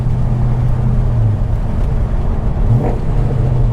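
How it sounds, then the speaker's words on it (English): A car engine revs sharply during a manual downshift rev match, a loud, steady low drone with a brief rise in pitch, heard from inside the vehicle. "So go ahead and rev match."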